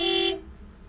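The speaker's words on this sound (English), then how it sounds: "Honk." A car horn in a video game gives one short, clear honk that cuts off abruptly, followed by quiet.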